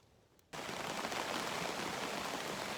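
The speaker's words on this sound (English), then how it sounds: "it's now pissing down rain" Heavy rain starts suddenly at a lake campsite, a dense, steady hiss of downpour that jumps from quiet to loud and continues unbroken.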